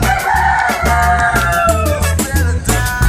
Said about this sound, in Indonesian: Suara ayam masih berkokok di pagi hari